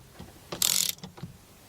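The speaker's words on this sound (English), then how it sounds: "I'm going to take a 3/8 ratchet." A 3/8 ratchet clicks while tightening on a Volkswagen ignition lock cylinder housing. A short, close burst of ratcheting clicks is followed by a couple of softer clicks.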